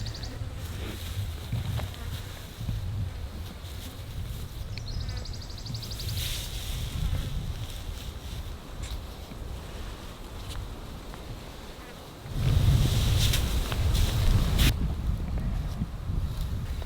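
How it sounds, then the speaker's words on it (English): Flies buzzing around an injured male leopard on a warm afternoon, faint intermittent whines drifting near and away over low wind rumble and a brief louder gust. "I'm sure that is drawing in a few flies and little pests that want to get to that"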